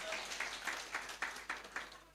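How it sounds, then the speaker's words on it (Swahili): A congregation at a pastors' fellowship claps in a steady, quick rhythm, about four claps a second, sounding faint and somewhat distant with no voices over it. "ambassador Radan, mpigie makofi"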